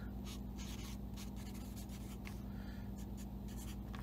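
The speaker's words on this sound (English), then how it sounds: "we're going to write this down" A pen scratches out a short note about a hoverboard wire number: a quiet, close run of quick strokes over a low steady hum, with no talking.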